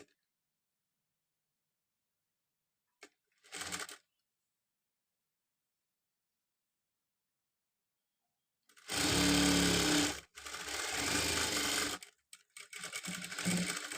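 A sewing machine stitches the side slit of a chudidar top: one brief whir, a long silence, then loud sustained runs of rapid stitching broken by short pauses.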